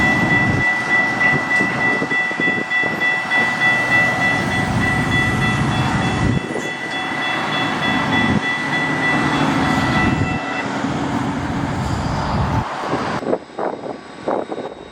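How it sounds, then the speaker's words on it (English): An RCP&E freight train in South Dakota rumbles past steadily with a deep, continuous roar on a windy day, wind gusting and a high squeal of wheels running through much of it. "we find ourselves with RCP&E's Rapid City to Huron train coming in on such a windy day"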